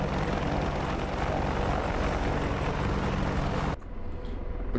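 An AH-64D Apache helicopter in the DCS flight simulator hovers with a steady, loud rotor and engine roar that fills the sound, dropping abruptly near the end.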